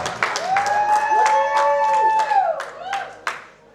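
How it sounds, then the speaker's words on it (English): Wedding reception guests break into clapping and cheering, mixed with music carrying sustained tones, the applause rising and falling over a few seconds before trailing off. "Let's give them a round of applause."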